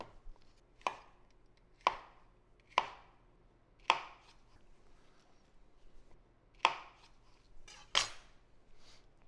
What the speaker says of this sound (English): Slice in half, take off the outer papery bits.